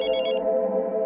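A telephone rings in a home, a short trilling burst that gives way to a steady held electronic tone, clear and close.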